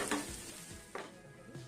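Chopped onion and green chillies fry in oil for potato samosa filling, a faint, quiet sizzle with a few soft stirring scrapes.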